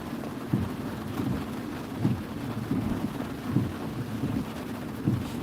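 Heavy rain pours down in a steady, close hiss, with soft low thumps repeating about every second on top of the downpour.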